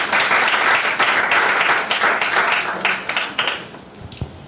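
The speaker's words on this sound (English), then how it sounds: "Might we please have a round of applause for our three esteemed judges." An audience at a high school debating competition applauds the judges, a loud burst of dense clapping that holds steady for a few seconds, then thins into scattered claps and fades out.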